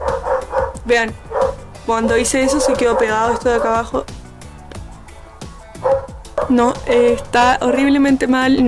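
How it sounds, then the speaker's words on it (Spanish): Dogs bark repeatedly in the background of a home setting, sharp yips and barks in bursts, heard under someone talking close by. "Disculpen los ladridos de los perros."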